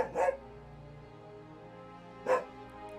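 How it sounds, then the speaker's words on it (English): Two short, sharp dog barks in Final Fantasy XIV, spaced a couple of seconds apart over a faint, steady ambient hum. "Dogs."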